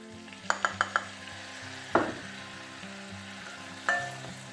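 Flour is stirred into melted butter in a pan, giving a low, steady sizzle with a few sharp metallic taps of a utensil against the pan, quiet and close.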